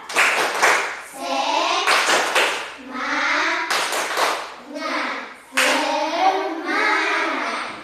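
A classroom of pupils performs the tepuk semangat clapping chant, several bursts of loud group voices chanting together with rhythmic hand claps in between.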